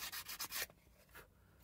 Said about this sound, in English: So I'll keep sanding this until I'm happy with it